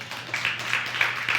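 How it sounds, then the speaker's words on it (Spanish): A congregation at a Spanish-language church worship service claps in a brief, even patter that sounds moderately distant and soft over a low room hum. "Denle un aplauso, Señor."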